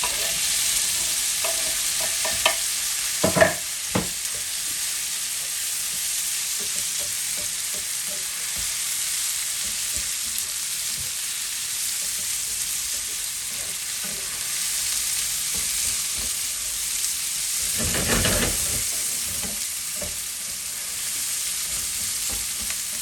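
Bitter gourd (karela) with browned onions and tomatoes frying in a pan gives off a steady, bright hiss, with occasional scrapes and clatters of stirring, heard close and alone with no voices.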